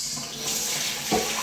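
Tap water runs steadily into a SaladMaster bowl as it is rinsed, a close, continuous splashing rush with a brief louder gush near the end.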